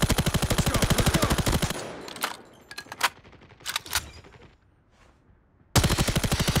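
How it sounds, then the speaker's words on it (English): Hostile sentry gun firing in a military video game, heard as loud rapid automatic bursts at the start and end with scattered sharp single shots between them and a quiet gap in the middle. "Be advised, hostile sentry gun spotted."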